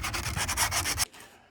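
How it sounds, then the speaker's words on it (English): Sandpaper rubs along the sharp wooden edge of a deck bench seat in quick, rhythmic back-and-forth strokes, close and clear, stopping abruptly after about a second. "Sandpaper just to take off that sharp edge."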